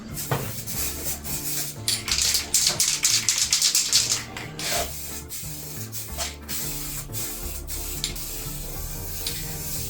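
Bursts of spray paint hiss onto a Mk3 Golf GTI wheel rim in short repeated passes, loudest early on, with clicks and shifting background tones between the strokes.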